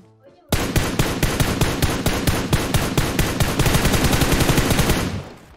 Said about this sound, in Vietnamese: Bên kia có tiếng súng kìa.